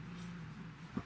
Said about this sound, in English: So if you hear my dogs in the background, they decide to play.